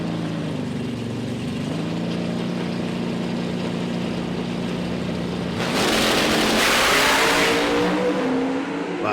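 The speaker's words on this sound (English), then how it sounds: "What was that burnout over there on the left-hand side?" A Pro Stock drag racing car at a PDRA drag race idles with a rough, droning engine note, then bursts into a loud, sustained high-revving burnout lasting several seconds. No talking.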